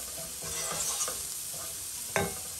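Bell pepper frying in a pan for baião de dois, stirred with a utensil: continuous sizzle with repeated scraping strokes and a sharp clack near the end.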